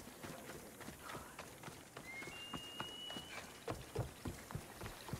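Rapid, rhythmic hoofbeats of a galloping horse in the video game Assassin's Creed Odyssey over a low background hum, with a brief whistle-like tone in the middle.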